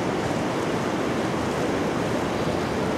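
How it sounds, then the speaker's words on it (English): Steady wind rushes outdoors beside a canal near Aspendos, Turkey, on a hot day, a constant broadband roar buffeting the microphone with no voices. "this nice cooling breeze"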